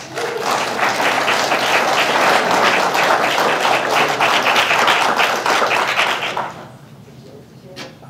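A council meeting audience breaks into loud, sustained applause for about six seconds, a dense roar of many hands, then stops abruptly, leaving quiet room tone.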